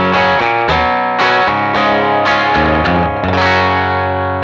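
A heavily distorted electric guitar through a Matchmore Hefe amp simulator plays chugging riffs and sustained chords, loud and continuous with a thick, saturated amp sound.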